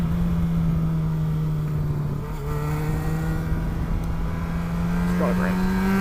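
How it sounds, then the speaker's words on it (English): Motorcycle engine held at a steady low drone while downshifting with a throttle blip, rising slightly in pitch near the end, heard up close against continuous wind rush. "I'm going to do the first downshift without blip shifting, and then blip shifting after that, and you can hear the difference."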